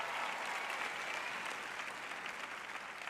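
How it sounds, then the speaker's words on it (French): Audience applause fills a room at a religious teaching event, steady dense clapping from a large crowd throughout, close and even in level with no voices standing out. "Je vous applaudis."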